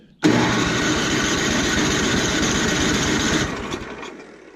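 A rusty, well-used snowblower engine with no fuel cranks over with a rapid, loud churning rattle for about three seconds, then winds down; close and alone, with no talking.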